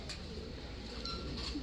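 Racing pigeons coo softly after returning from a hard 200 km race through fog and bad weather; a low, faint murmur of cooing runs steadily throughout.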